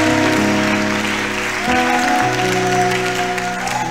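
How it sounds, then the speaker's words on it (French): Sustained applause and clapping at a church testimony gathering, steady and loud, with sustained tones from music playing underneath. "How are you clapping like this?"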